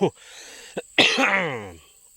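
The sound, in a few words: cough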